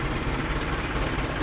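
A Hino truck's HO7C six-cylinder diesel engine runs at a steady idle, a continuous low rumble with a faint vibration and no talking.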